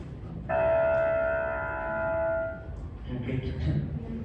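A single synthetic piano note from a phone piano app rings out clearly and fades over two seconds, then a voice starts talking.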